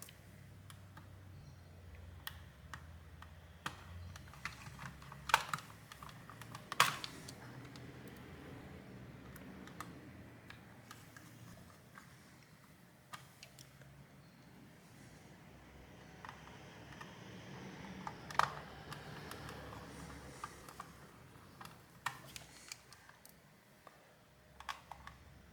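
Small screws come out of the back of a GameSir X2 Bluetooth controller during a teardown, with faint close-up ticks, clicks and plastic taps scattered over quiet room noise.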